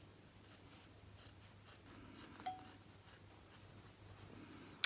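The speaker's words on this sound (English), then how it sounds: "I'm going to use my smaller scissors for this" Quiet, close snipping and rasping of scissors cutting through fabric, a series of soft irregular cuts.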